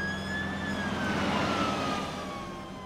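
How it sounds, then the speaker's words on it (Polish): Cartoon fire engine siren wailing as the truck drives off, a single long tone sliding down in pitch, loud and close, then fading slightly toward the end. "Wóz strażacki musiał jechać do wyzwania."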